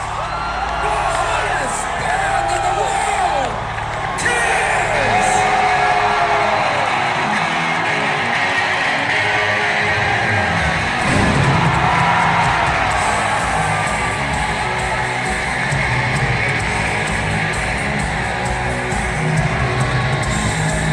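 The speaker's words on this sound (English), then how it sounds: "when that curtain drops and you hear that crowd just roar" Stadium crowd at a concert swelling into a sustained roar of cheers and whoops as the band takes the stage, loud and dense throughout with scattered yells and a slight lift midway.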